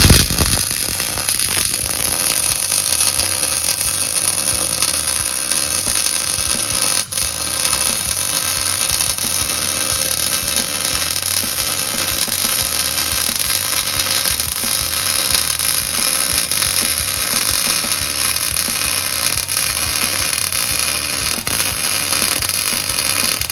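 Steel plates being joined with a fillet weld along a six-inch joint, a steady broadband crackling hiss running continuously and fairly loud with no pauses and no talking.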